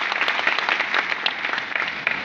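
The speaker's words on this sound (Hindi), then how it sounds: "जोरदार ताली बजा के इनका स्वागत है" An audience at a state-level party organisation review meeting in Lucknow claps warmly in a dense, steady burst of applause to welcome a guest, close and fairly loud, with faint voices underneath.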